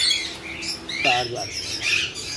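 Pigeons at a bird market in Lahore, Pakistan, giving short squawks and chirps close by amid busy market noise, with a voice talking faintly in the background.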